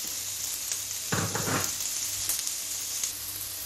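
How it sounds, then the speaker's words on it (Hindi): Chopped onions drop into hot oil for a vegetable shola soup, giving a continuous sizzle that swells into a brief, louder crackling burst midway, then settles back. "तेल गरम हो जाए तो आप चॉप किए हुए इसमें प्याज डाल दें।"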